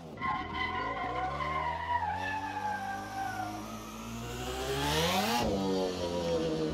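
Simulated FC3S drift car in Assetto Corsa lapping a track, a steady loud engine drone with rising revs and long continuous tire skidding that builds and swells near the end, no talk over it.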